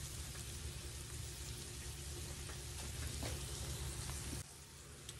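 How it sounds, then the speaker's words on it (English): Burrito casserole filling simmers in a pan, giving a steady, even sizzle and soft bubbling throughout, with no voices. "just let it be sitting there kind of simmering a little bit"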